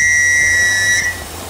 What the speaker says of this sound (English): And finally, in the mountains, a loud whistle.